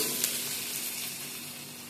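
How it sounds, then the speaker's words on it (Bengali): Chopped tomato fries in a pan while cooking lote fish paturi, a steady soft sizzle running evenly throughout with no voices. "দিয়ে দিলাম একটা টমেটো কুচিয়ে নেওয়া। একসাথে একটু ভেজে নিচ্ছি।"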